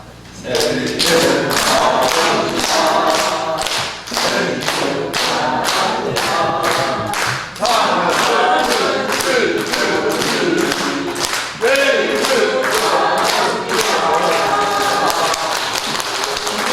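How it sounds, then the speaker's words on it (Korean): A congregation at a church service gives loud, sustained congratulatory applause, dense steady clapping from a large crowd that continues throughout without any break. "축하박수 칩시다."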